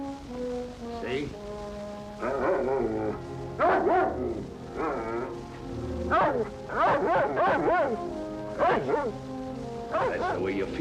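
A dog in an old film barks, yips and whimpers in repeated bursts, loud and close, over a sustained low musical drone.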